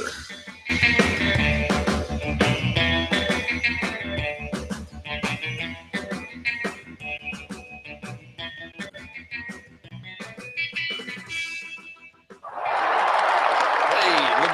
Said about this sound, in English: The applause button